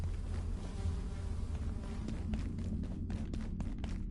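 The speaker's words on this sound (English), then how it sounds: "Oh, hey, bees!" Bees in the video game Abiotic Factor buzz in a steady droning hum, with a few louder passes near the end as they fly close.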